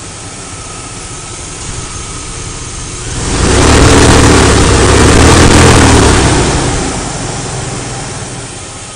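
A 2003 Dodge Durango with a 4.7-liter engine and automatic transmission runs steadily at idle, then revs up into a louder, fuller roar for a few seconds before easing back down, close by with no talking.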